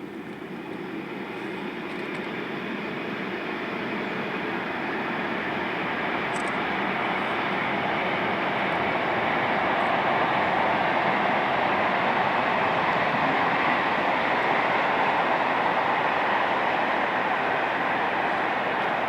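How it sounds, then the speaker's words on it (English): An SBB Class 484 electric locomotive hauls a tank train along the Milano main line, its rumbling roll and wheel noise rising steadily as it draws nearer, with no voices. "we see this SBB Class 484 working a tank train from Carco Trecante to Zurich Oberglatt"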